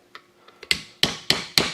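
A hammer taps a new wheel seal into place on a Ford F150 wheel hub during a wheel bearing replacement, a few light taps followed by four sharp, evenly spaced metallic strikes, close and loud.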